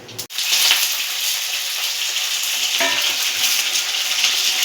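Chillies fry loudly in hot oil, a dense continuous sizzle and crackle that bursts in suddenly and stays close and steady, with no voices over it.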